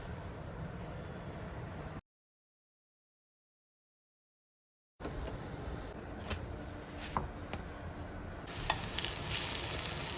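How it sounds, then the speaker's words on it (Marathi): Vadi, a Marathi snack, frying in a pan: a soft, continuous sizzle with a few light clicks, broken by a few seconds of silence, faint and close. "वडी पण भाजायला टाकलेली."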